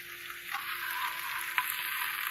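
Carrots and other vegetables stir-fry in a hot pan for a crispy tofu stir fry, giving a steady, close sizzle with a couple of brief louder crackles as the food is stirred.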